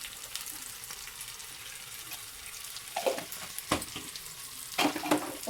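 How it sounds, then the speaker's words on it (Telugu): Chicken curry with tomato sizzles quietly in a pan, with scattered scraping and stirring strokes of a spoon as chilli powder and salt are mixed in, alone without voices. "ఒకసారి కలుపుకుందాం."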